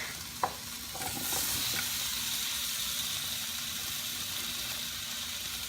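Squash and tomato sizzling in a hot pan, a steady frying hiss with a brief clatter of pieces dropping in near the start.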